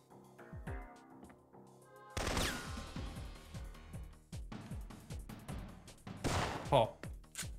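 Repeated gunshots from the Syphon Filter video game ring out in a rapid, irregular series of loud, sharp bursts, with brief pauses between volleys and a background music bed underneath.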